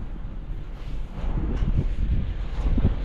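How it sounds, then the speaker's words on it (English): Wind buffets a microphone outdoors on a hot day, gusty low rumbling that swells and dips over a few seconds with no talk. "Got this wind."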